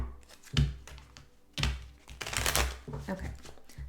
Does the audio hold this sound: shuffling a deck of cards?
yes